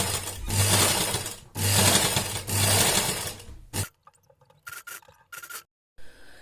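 A sewing machine runs in steady buzzing bursts while stitching a folded fabric strip onto a newborn baby cap, close and loud, pausing twice before stopping, followed by quiet handling clicks and fabric shuffling.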